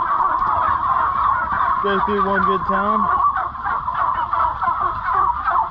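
Many turkeys gobble and chatter inside a 50-by-550-foot farm house holding about 8,500 birds, a dense, loud, continuous flock din with a few near, distinct gobbles, while a person speaks briefly over it.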